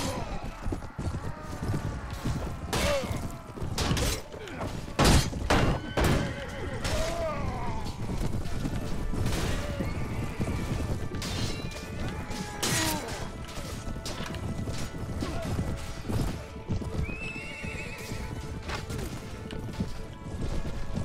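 Horses gallop amid medieval lance combat in the game Anno Domini 1257, a busy mix of hoof clip-clops, sharp whacks and crashes, with occasional whinnies, all continuous and loud, with someone talking now and then over the action.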